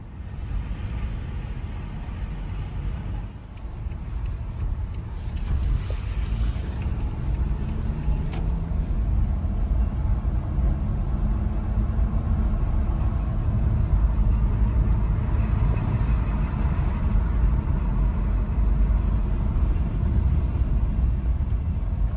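A Subaru Forester with a swapped EJ25 engine on its first test drive, giving a steady low engine and road drone with tire rumble heard from inside the cabin throughout.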